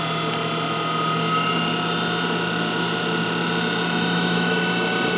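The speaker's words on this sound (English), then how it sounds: "You can also hear the load on the motor." A pump motor runs loaded while flow is throttled and cavitation is tested, giving a loud steady drone with a constant tonal hum and no pauses.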